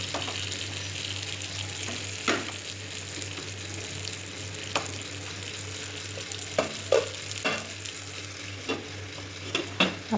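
Kerala-style karimeen (pearl spot fish) frying in a pan, a soft steady sizzle of oil with occasional sharper crackles and stirring clinks, close and fairly quiet, with no talking.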